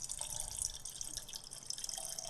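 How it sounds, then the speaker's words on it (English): Liquid anesthesia poured into a cone as a radio drama sound effect for a Halloween show: a steady, close trickle and splash of water running continuously with faint drips, no voices. "Pour the anesthesia into the cone."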